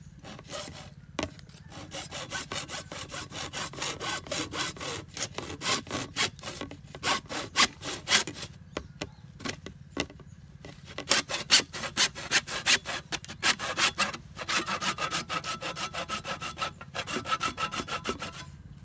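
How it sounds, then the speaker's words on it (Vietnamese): Steady back-and-forth strokes of a hand saw cutting through PVC water pipe, rhythmic rasping with a few brief pauses, close and fairly loud. "mình sẽ cưa cái đoạn này cái đã, mình cưa cái nha các bạn"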